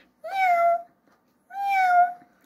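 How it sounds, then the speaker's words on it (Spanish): A cat gives two clear, close meows, each a drawn-out tonal cry about half a second long, separated by a short silence. "es el gato"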